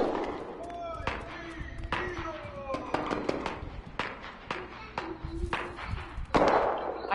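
Rifle fire in the Cuisine Royale battle-royale shooter, a string of sharp cracks and thumps scattered irregularly across several seconds, fairly faint under game ambience and bits of voice.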